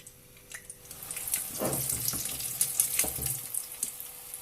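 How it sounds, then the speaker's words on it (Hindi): Pieces of maida dough frying in oil over a low-medium flame, a soft, steady sizzle with brief bursts of louder bubbling and crackle as pieces go in, close by with no talking. "आपने इसको लो से मीडियम फ्लेम पे इनको फ्राई करना है"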